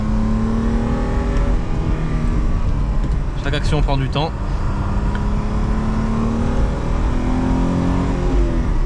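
A BMW E12 sedan's engine revving near 5000 rpm, a steady droning engine note that climbs and holds under a person talking, with a brief burst of higher tones partway through.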